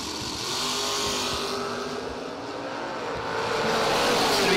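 A Camaro and an S10 pickup sit at a drag strip starting line, their engines droning loud and steady before swelling as they launch, with no voices audible.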